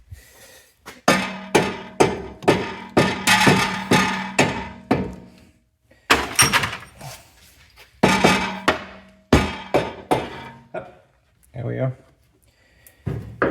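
Repeated sharp mallet strikes knock a ball joint loose on an Audi B7 RS4 suspension, landing as rhythmic bursts of close, loud knocks with brief pauses between sets.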